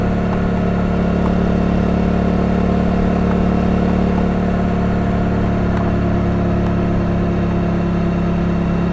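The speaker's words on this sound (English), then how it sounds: "And it came with a Yoshimura exhaust, so it sounds great." Kawasaki Ninja 300 motorcycle fitted with a Yoshimura exhaust, a loud steady engine drone held at an even pitch throughout, close and continuous with no talking.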